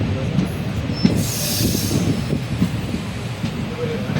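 A passenger train (number 56831) runs along the Trichy–Karaikkudi line, heard from onboard as a steady heavy rumble of wheels on track with a rising metallic squeal in the middle and faint clicks.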